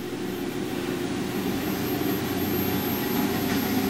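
Amada Octo punch press with hydraulic cylinders pressing down to clamp a metal sheet, a steady loud industrial drone and hum running evenly throughout with no talk.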